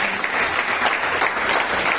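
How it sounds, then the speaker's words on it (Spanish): A church congregation bursts into loud, dense applause that stays steady and close for the whole two seconds, with no talking over it. "¿Cuánto da un fuerte aplauso?"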